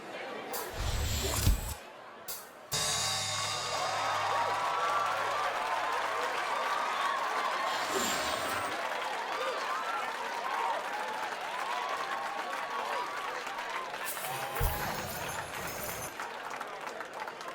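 A crowd cheers and claps in Rock Band 4, a dense, sustained wash of applause that swells after a brief pause, with short bursts of other game sounds breaking in.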